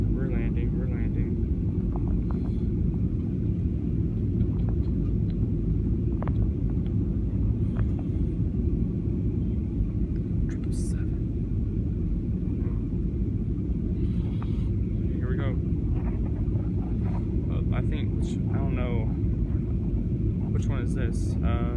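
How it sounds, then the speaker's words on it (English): Airplane landing in Miami, heard from inside the cabin as a loud, unbroken low engine and airflow rumble throughout, with a voice speaking intermittently over it. "Here we go. We're landing."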